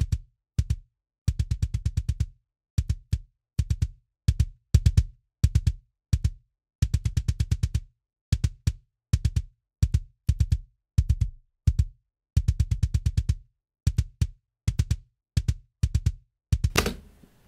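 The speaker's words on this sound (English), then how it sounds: "the drive feature, which is meant to emulate some of the distortion and saturation that you get on a hardware unit" A choppy electronic beat of low, buzzy thumping bursts with crisp clicks on top, gritty and saturated through a Softube Console 1 drive effect, pulsing in uneven rhythmic clusters.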